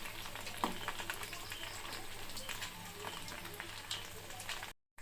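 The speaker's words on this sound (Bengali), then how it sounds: "পকোড়াটা একটুখানি লাল লাল কড়া কড়া করে ভাজলে পরে ভালো লাগে খেতে, তাই এটাকে একটু কড়া কড়া করেই ভাজতে হবে।" Chicken pakora deep-frying in hot oil, a steady soft crackling sizzle with scattered pops running through, fairly faint and unbroken until a short drop-out near the end.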